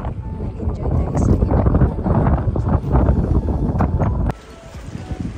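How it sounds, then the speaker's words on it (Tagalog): Strong wind buffets the microphone at a seaside fishing park in Japan, loud gusty roaring for several seconds, then dropping off abruptly, with a voice speaking over it. "Malakas mga hangin ngayon"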